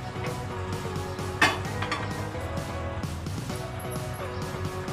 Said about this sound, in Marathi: आता गॅसवर तुम्ही एक पॅन ठेवणार आहोत